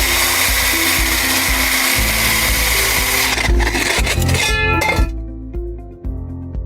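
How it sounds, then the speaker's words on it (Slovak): A drill bores a hole through an exterior wall below the lower floor for a radon vent pipe, grinding loudly and steadily with scraping and rattling, then slowing and stopping near the end. "Na vytvorenie radónového odvetrania vyvrtáte otvor cez vonkajšiu stenu pod spodnú podlahu."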